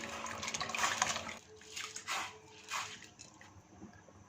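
Soaked rice pours into a pan of water, giving a loud splashing, gurgling rush followed by softer sloshing bursts as it settles.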